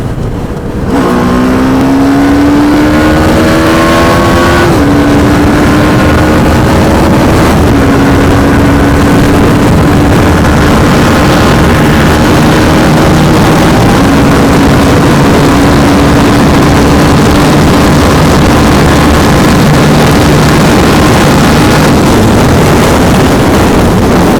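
A TVS Apache RR 310 motorcycle engine on a ride toward Nandi Hills, Bangalore: a loud, continuous close-up engine drone with a rising pitch through gear changes and heavy wind rush throughout, with no talk.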